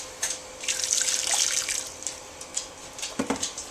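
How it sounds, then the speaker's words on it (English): Water splashes and trickles into a bowl, a short pour with a burst of hissing splash followed by a few softer drips. "So I'm going to pour in 1 cup of water,"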